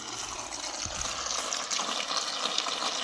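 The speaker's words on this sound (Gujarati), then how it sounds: "તુવેરમાં પાણી ચાલુ છે" Irrigation water runs through a pigeon pea field past a makeshift stone diverter: a steady, fairly loud rushing and gurgling flow close by, continuing throughout with no talk.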